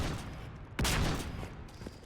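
Gunfire in the video game Mass Effect 3: a burst of rapid shots hits sharply, preceded and followed by a dense rumble of combat noise, loud and close.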